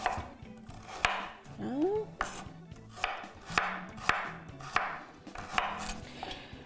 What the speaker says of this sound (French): je vais commencer à couper les carottes